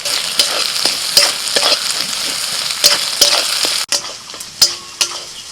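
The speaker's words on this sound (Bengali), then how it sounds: "আদা রসুন পেঁয়াজের সাথে সব ভালো করে ভেজে নিয়েছি" Ginger paste frying with garlic and onion in a pan while being stirred, a close, loud sizzle with repeated sharp spoon scrapes and knocks, quieting briefly near the end before more clinks.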